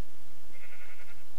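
Sheep bleat in a Minecraft-style block-building game, one short mid-pitched bleat heard alone at moderate loudness with no talk over it.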